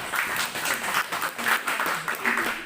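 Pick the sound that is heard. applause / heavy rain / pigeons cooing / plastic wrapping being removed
applause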